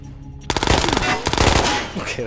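An AK rifle in the VR shooter Ghosts of Tabor fires a rapid automatic burst after a quiet moment, loud close cracks in quick succession that continue for nearly two seconds.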